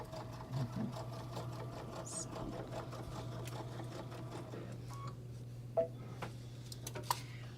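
A sewing machine stitches a Morgan messenger bag at a short stitch length, a steady low motor hum with a fine rapid stitching texture and a few small clicks, fairly quiet and alone.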